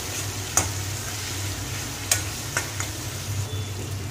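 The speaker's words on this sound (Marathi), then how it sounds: "आता मी याच्यामध्ये मगज बी पण ॲड करतो ते पण मी फ्राय करून घेतो" Cashews and melon seeds fry in a pan, a steady low sizzle with a few sharp clicks of a spoon against the pan and a faint hum beneath.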